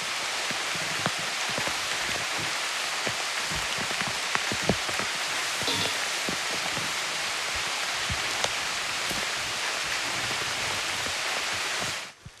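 Steady heavy rain pours onto a makeshift outdoor survival shelter during a storm, a dense unbroken hiss with scattered nearby drip impacts, loud and continuous with no talk until it cuts off at the end.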